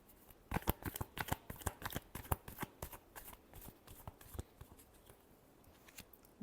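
Tarot cards being shuffled by hand in a quick run of crisp, close riffling snaps and slaps, each burst sharp and irregularly spaced, with no talk over them.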